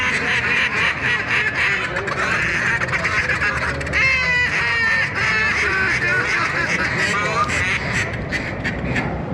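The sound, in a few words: imitated duck calls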